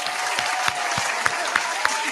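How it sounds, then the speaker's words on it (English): Hand clapping in a podcast studio, a run of sharp, evenly spaced claps close to the mic over a faint background of other applause and murmur. "Let me clap."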